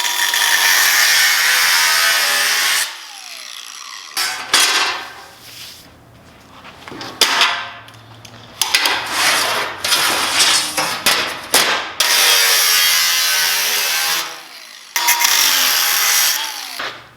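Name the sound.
cutting a groove into metal without cutting through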